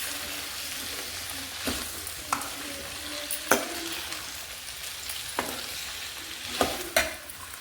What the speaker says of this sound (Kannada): ಈಗ ಮಿಕ್ಸ್ ಮಾಡ್ತಾ ಇದ್ದೀನಿ.